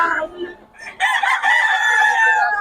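A rooster at a poultry sale gives a single loud, close crow that rises and holds its drawn-out final note, after a few softer clucking sounds.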